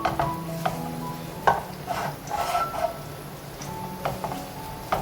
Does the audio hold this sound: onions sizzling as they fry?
yes